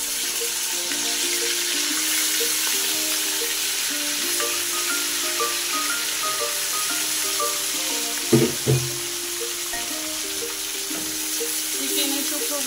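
Chicken pieces fry in hot oil for roast chicken, a steady close sizzle with light stirring clatter and a brief louder knock partway through, no talk.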